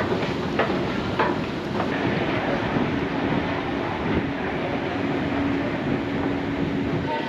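A metro train in Tehran runs underground with a loud, constant roar and rumble, faint wheel clicks early on and a low whine, with no speech.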